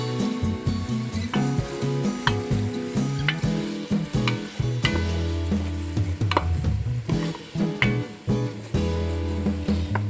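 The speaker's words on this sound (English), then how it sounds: "And just stir until, you know, the onion cooks a little bit." Onion stirred in a pot for broccoli and potato cheese soup, a steady loud sizzle with repeated scraping strokes of a spoon against the pan, continuous and close with no talking.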